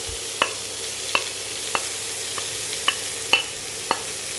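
Potatoes are stirred into sautéed onions in a pan for potato bonda filling: about seven evenly spaced spatula taps ring out over a soft, constant sizzle, with no voices.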